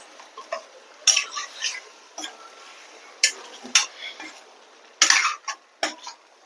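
Spoon stirring chicken with chicken masala and turmeric in a pot, Saoji-style curry: several sharp scraping and clinking strokes spaced irregularly, close and moderately loud with quiet gaps between.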